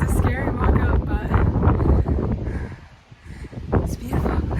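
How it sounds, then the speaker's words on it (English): Strong wind buffets the microphone on top of a fire tower on the Appalachian Trail in Vermont, in loud, gusty roars, dipping briefly before surging again, with a voice speaking under the noise. "It's very windy"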